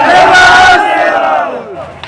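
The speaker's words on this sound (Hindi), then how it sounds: "ताली बजाएंगे आप सभी के लिए, जोरदार नारे लगाएंगे" A crowd of Adivasi protesters at a rally against the Dudhi dam shouts a slogan together, a loud, close roar of many voices that swells and then fades.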